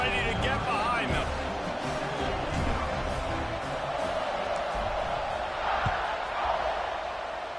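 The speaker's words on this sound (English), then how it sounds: "They're set to kick it off, and this crowd now ready to get behind them." Large stadium crowd roaring and cheering ahead of a college football kickoff, Oklahoma at Alabama, a steady wash of massed voices with broadcast commentary talking over it throughout.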